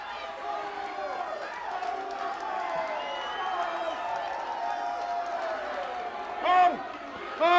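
A large arena crowd at a Mid South Wrestling event roars and cheers steadily throughout, with whoops rising near the end.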